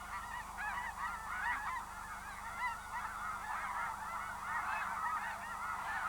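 A large flock of geese migrating from Hudson Bay breeding colonies, honking constantly in a dense overlapping chorus, at a middle distance over a low steady rumble.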